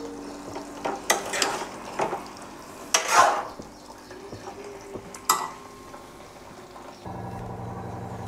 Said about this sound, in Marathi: थोडंसं हलवून मिक्स करून घेऊया आणि थोडंसं 5 मिनटं शिजवून घ्यायचं आहे आपल्याला